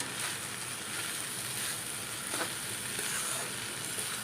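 Water spinach being stirred in a covered pan while cooking for an Assamese fish curry, a steady close sizzle and frying hiss with a brief stirring scrape midway, no talk.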